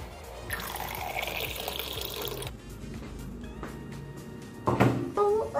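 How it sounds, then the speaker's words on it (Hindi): Hot water poured into a cup for washing, a steady splashing stream that rises as the cup fills, then stops, followed by a few faint clinks and a brief voice. "ले आते हैं इसमें हम गर्म पानी पहले।"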